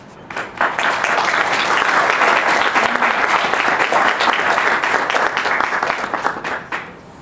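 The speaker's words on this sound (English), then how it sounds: "How about another round of applause?" Audience applauding Delegate Alfonso Lopez at a housing day event, a loud crowd bursting into clapping with distinct individual claps, swelling quickly and then thinning out unevenly toward the end.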